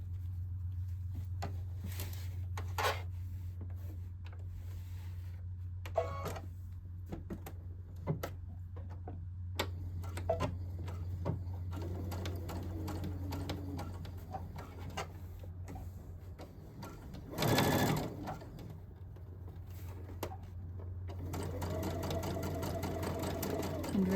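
A sewing machine stitches a jacket facing to its lining in long runs, a steady low mechanical hum with light ticking, paused by brief handling noises and a short rustle before resuming.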